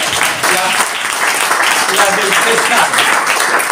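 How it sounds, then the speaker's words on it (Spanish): An audience at a talk about Segovian legends applauds. The clapping is loud, dense and continuous from near, with voices mixed in. "quiero que aplaudáis a Yello, que me aportó la certeza"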